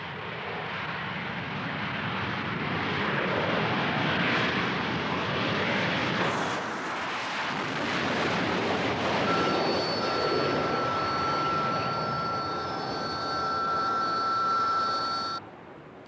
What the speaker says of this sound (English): she's the only military aircraft in the West to be able to take off vertically